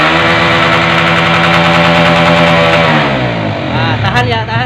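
A Honda CBR150R motorcycle engine with a sputtering, hesitating fault is held at full throttle, a loud, steady, buzzing roar close by that wavers and dips toward the end.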